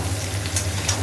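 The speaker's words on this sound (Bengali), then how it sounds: "ভাজা হোক ভালো করে" Steamed cauliflower frying in a pan, a short, even stretch of close sizzling with a low steady hum underneath.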